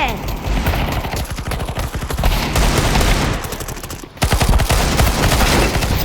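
Rapid gunfire in Counter-Strike 2 during a gun game match, dense bursts of automatic and single shots nearly continuous, with a brief gap near the end before firing resumes.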